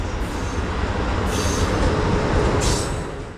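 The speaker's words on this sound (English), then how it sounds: "A Sunday special no-stop Amtrak Acela 2275 tries to sneak past westbound on track 2." An Amtrak Acela, train 2275, runs westbound on track 2 at South Norwalk without stopping. It makes a loud, continuous rushing roar with bursts of high wheel squeal and a few clicks, with no voices.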